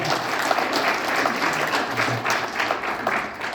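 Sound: welcoming applause

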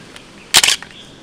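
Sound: camera shutter taking a photo

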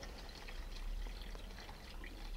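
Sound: cold water poured into fish soup pot

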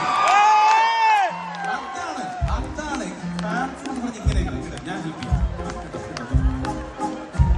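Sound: crowd cheering and clapping

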